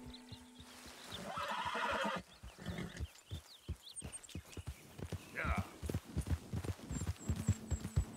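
A horse in the video game Red Dead Redemption 2 whinnies in a brief warbling burst mid-clip, with steady clip-clop hoofbeats running throughout under a voice.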